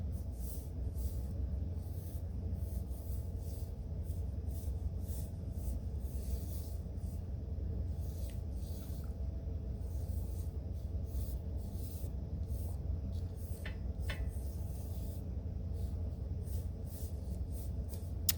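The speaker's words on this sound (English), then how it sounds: "I'm gonna sketch this light to start" A pencil sketches light lines on paper, drawn against a ruler, in soft, close scratching strokes that come in short repeated bursts over a low, steady background hum.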